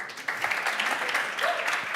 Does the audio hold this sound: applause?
yes